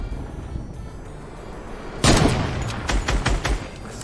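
Assault rifle fire in a Fortnite match: after two quiet seconds, a loud close burst erupts, followed by a string of sharp rapid shots tapering off toward the end.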